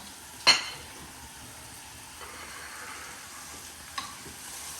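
Gin and blackcurrant relish stirred in a hot pan as the gin flames burn off, a faint soft sizzle with a sharp utensil clink early on and another light tap later.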